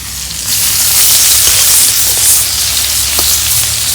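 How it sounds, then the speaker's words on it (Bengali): Pomfret fish fry in hot oil in a heated pan, giving a loud, steady sizzle with occasional small pops and spatters. "মাছ ভাজা হতে থাক"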